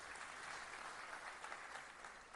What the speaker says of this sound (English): A big round of applause for the man here.